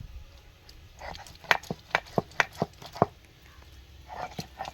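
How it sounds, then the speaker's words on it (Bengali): Ginger, garlic and onion crushed together on a traditional grinding stone, heard as a run of sharp, irregular knocking and grinding strokes, close by and moderately loud, with quieter scraping between them. "তো বন্ধুরা আদা রসুন পেঁয়াজ সব একসাথে বেটে নিল মা"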